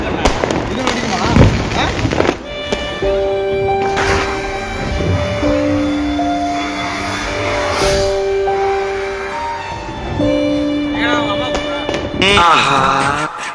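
A flower pot firework burns during Diwali night celebrations, with a sustained fizzing hiss and sharp whistling tones over background bangs and crackles, ending in a louder crackling burst.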